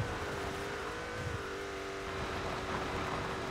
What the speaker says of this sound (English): The motorcycle sounds so whack.